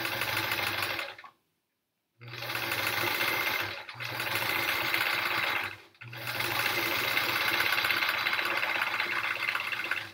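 A sewing machine runs in long steady bursts of rapid stitching during free motion quilting, stopping briefly twice between runs, loud and close with no talk.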